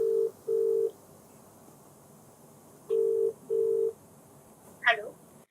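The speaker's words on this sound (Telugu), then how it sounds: "So call చేసేస్తానండి." Telephone keypad dial tones sound in short steady beeps, two at the start and two more about three seconds later, followed by a brief chirp, all fairly clear over faint background hiss.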